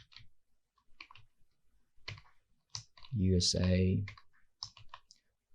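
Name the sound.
typing on a computer keyboard in PowerPoint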